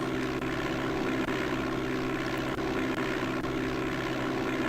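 Steady droning propeller aircraft engine from DOS Flight Simulator 5.1, a constant loud hum with a low throb and no change in pitch while descending, continuous throughout.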